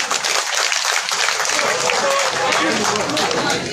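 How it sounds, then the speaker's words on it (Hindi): Crowd clapping to welcome a guest at a BJP candidate's nomination rally, a steady dense wash of applause that runs the whole time while a voice talks over it. "इनका ताली बजाकर स्वागत करें।"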